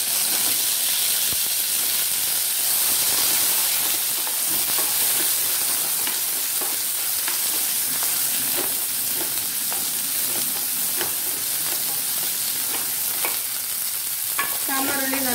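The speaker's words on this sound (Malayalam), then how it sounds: "സാമ്പാർ ഉള്ളി നല്ലോണം ഒന്ന് വറുകയതിന് ശേഷം ഇതിലേക്ക് മസാലകളിടാം" Shallots frying in a pan for radish sambar, a loud continuous hissing sizzle with repeated scraping stirs, close-up.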